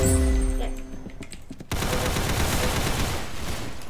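Gunfire from a weapon in the Roblox-style shooter Arsenal, a dense rapid automatic burst that starts abruptly and runs on continuously, loud and close, after a few seconds of game sounds.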